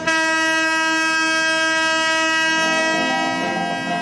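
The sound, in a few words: Darjeeling Himalayan Railway toy train running, horn sounding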